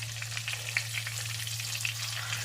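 A pork chop frying in a pan gives a steady, close hiss of sizzling oil with scattered small pops and crackles throughout, no voices.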